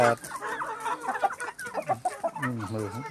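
Farm-raised chickens, once Thai birds and now an Israeli breed, cluck in a busy, uneven series nearby, with several overlapping calls and no talk.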